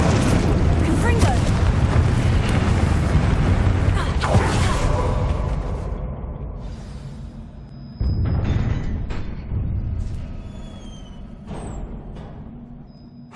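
Confringo fire spells blasting in Hogwarts Legacy, a loud dense barrage of booming explosions for several seconds that thins out into scattered crackling impacts, with another burst partway through.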